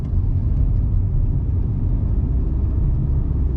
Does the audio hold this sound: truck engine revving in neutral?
yes